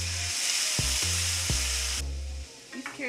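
Carrots fry loudly in a pan with butter, brown sugar and vanilla brandy, giving a steady hiss that is broken by a few knocks of the pan. The sizzle thins out toward the end, when the pan is lifted.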